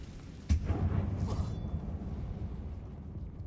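A Confringo fire spell bursts in a tomb-like video game mine: a sudden broadband blast, then a heavy low rumble that lingers and slowly fades.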